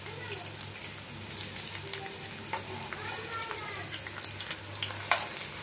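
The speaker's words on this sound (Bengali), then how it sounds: "তেলটা গরম হয়ে গিয়েছে, এখন এর ভিতরে আমরা পেঁয়াজ কুচিটা দিয়ে দিচ্ছি।" Chopped onions hit hot oil for an Indian chicken and potato curry, a dense crackling sizzle running steadily throughout with scattered pops and spatters, close and fairly quiet.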